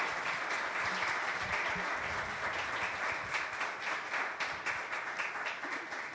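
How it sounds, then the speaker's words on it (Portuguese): An audience at a closing conference session applauding warmly, a dense, steady wash of many hands clapping that holds for several seconds. "a Lucas, a todo el equipo Sao Camilo, un fuerte aplauso, por favor."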